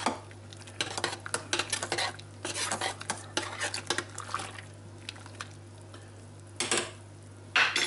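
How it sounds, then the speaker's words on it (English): Dry malt extract stirred into a pot on a stove while preparing a yeast starter for home brewing, with a utensil scraping and clinking against the pot in uneven bursts over a steady low hum, then pauses and a final loud scrape. "Give that a little bit of a stir around"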